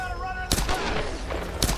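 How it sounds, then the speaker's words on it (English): Gunfire from enemies in the Tomb Raider video game, several sharp, loud shots cracking out in quick bursts, the last one near the end, over a low humming game background. "they are also just like blindly shooting, I guess."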